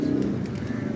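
A pigeon coos nearby, a low soft throaty warble repeating briefly in a quiet setting.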